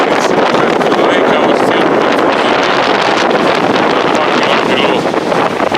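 Strong wind blasts across an exposed mountain ridge on Hailstone Butte during a snowstorm, a loud continuous roar buffeting the microphone while someone speaks over it.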